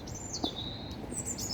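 A single bird crossing a road chirps in the open, a short bright call followed by a faint second call, over low outdoor background rumble.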